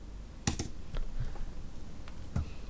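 A few sparse keystrokes click quietly on a computer keyboard, spaced irregularly over a faint room hush.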